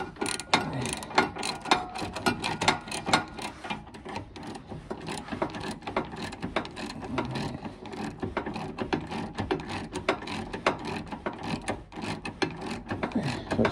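A 13mm ratchet wrench tightens a rusty exhaust manifold bolt on a Mazda MX5 NC Miata, clicking in a fast, steady, close-up ratcheting rhythm that runs without a break.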